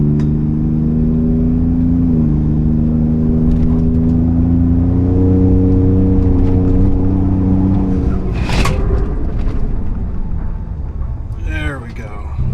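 Loud engine drone of a 2020 Ford Raptor with over 500 hp and Baer big brakes, holding a steady, slightly shifting tone before decelerating hard during a brake bed-in stop, with a brief sharp noise near the end.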